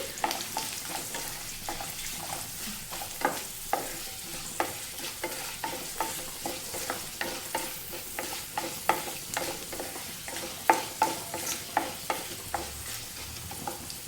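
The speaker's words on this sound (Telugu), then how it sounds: "ఇవి బాగా దోరగా వేయించుకుందాం తాలింపు కోసం అనేసి" Dried red chillies and curry leaves fry in oil for a tempering, a soft continuous sizzle broken by regular, close taps and scrapes of a spoon stirring in the pan, with no talk.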